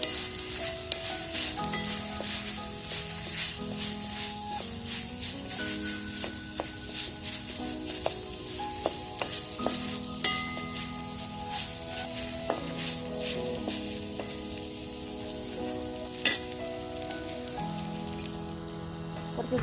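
Shallots frying with beef in a pan for a traditional beef fry, a steady crackling sizzle with rhythmic stirring scrapes, music underneath and no talking.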